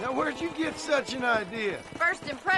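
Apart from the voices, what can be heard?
No distinct noise like a dog, phone or traffic.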